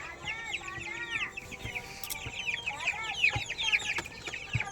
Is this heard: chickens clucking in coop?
yes